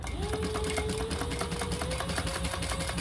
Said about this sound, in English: So I am going to baste my credit card slots on the sides, just so they don't go anywhere when I'm putting it all together.